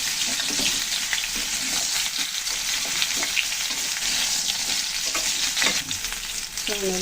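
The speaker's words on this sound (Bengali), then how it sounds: "এখন দিয়ে দিচ্ছি দুন্দল, ভালো করে ভেজে নেব।" Sponge gourd and browned potatoes frying in oil, a dense steady sizzle with intermittent stirring scrapes and a faint clink near the end.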